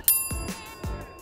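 A notification bell sound effect rings out loud and clear: a bright metallic ding that strikes at once and then decays, struck again twice more in a short sequence, with no talking around it.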